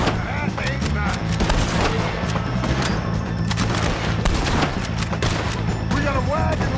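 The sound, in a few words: gunfire in Red Dead Redemption 2 video game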